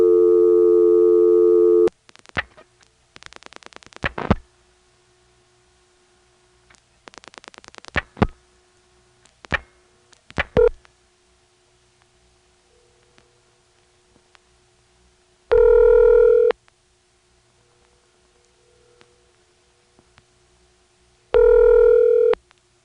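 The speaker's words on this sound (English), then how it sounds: "Now here's an intra-office ring." Intra-office telephone ring at a central office: loud steady ringing tone bursts repeat at long intervals, separated by near silence and scattered faint clicks.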